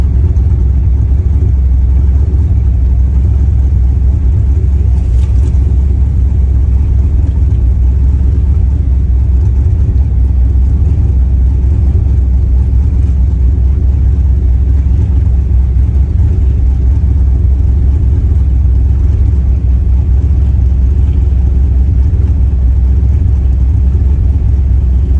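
Cars cruise at Gainesville Raceway during Sick Week drag racing, a loud continuous engine rumble with occasional revving throughout, heavy and close with wind-like roar.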